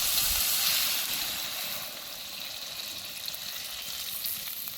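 Gravy liquid is poured into a hot pan of cooked-down curry, setting off a loud hissing sizzle that slowly settles into a quieter, steady bubbling fry.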